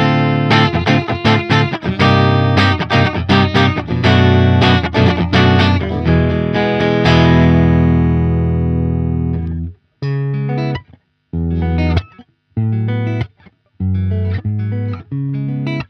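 Clean, bright Ibanez AZ series electric guitar on its middle single-coil pickup, glassy tone, strummed chords that ring out and decay, then short choppy stabs with gaps.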